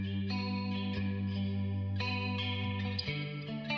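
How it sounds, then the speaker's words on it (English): Electric guitar plays solo through the Safari Pedals Camel Strip plugin: sustained, chorus-widened chords and notes with a touch of distortion and echo, changing every second or so, upfront and without any voices. "So this is soloing my electric guitar."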